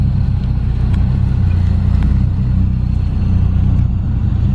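Cars pulling into a gas station around a pair of Saabs, heard as a steady close engine rumble with idling and low revving that holds level throughout, with no voices.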